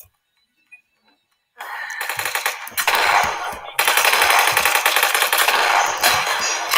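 Rapid automatic gunfire from a video game, loud bursts starting after a quiet moment and continuing in rattling volleys with brief gaps.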